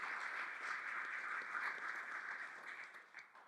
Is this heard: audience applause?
yes